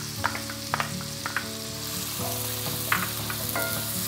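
A cup of chopped onion hits melted bacon grease over medium-high heat for fried cabbage, setting off a strong, steady sizzle punctuated by light clicks and taps of stirring, under a constant low hum.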